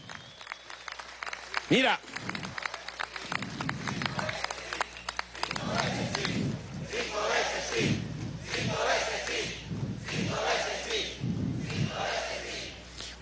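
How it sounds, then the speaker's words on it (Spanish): A large outdoor crowd at a political march on Avenida Bolívar in Maturín claps and cheers in rhythmic surges, with chanting bursts rising and falling over about thirteen seconds; someone speaks briefly at the start. "yo les pido un aplauso para ustedes mismos que están aquí en la Avenida Bolívar"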